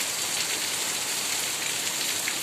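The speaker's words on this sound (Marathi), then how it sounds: "साडेचार वाजताच पाऊस आला" Steady rain falling hard on surfaces, a dense, even hiss with no voices.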